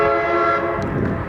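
A loud train horn fitted to a 2011 BMW 335is (E90) blares with steady stacked harmonic tones for over a second, then gives way to rumbling noise near the end.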